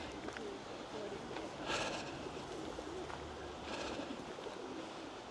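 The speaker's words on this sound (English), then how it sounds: "Pigeons." Pigeons coo softly nearby outdoors, a few low, rounded calls rising above faint background ambience.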